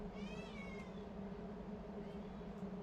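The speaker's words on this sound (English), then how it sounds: "This is my cat." A house cat gives a short rising meow early on, fairly faint over a constant low indoor hum, with no further calls and no speech.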